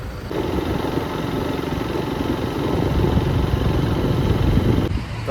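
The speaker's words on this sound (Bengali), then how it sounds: "এখন বাইক চালাবো" A motorcycle engine runs with a loud, steady rumble that holds constant throughout, with no voices.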